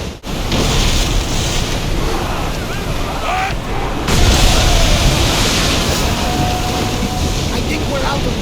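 Rushing wind and surging waves around a sailing ship moving at full speed in the video game Assassin's Creed Odyssey, a steady loud broadband roar that swells near the midpoint, with a voice talking over it.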